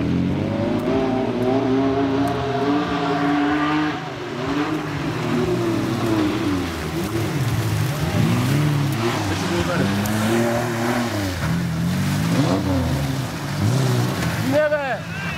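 Off-road vehicle engine revving while reversing on rough ground at an off-road event near Burgas, loud rising and falling revs with repeated pulls, and voices talking over it.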